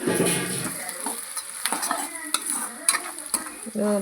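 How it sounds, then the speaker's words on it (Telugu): Peanuts fry in oil in a pan, with a soft continuous sizzle broken by several close, sharp clinks and scrapes of a stirring spoon. "పల్లీలు నూనెలో మరి ఎంత ఉడికేంత వరకు కొద్దిగా కొద్దిసేపు అలా ఉంచాలండి"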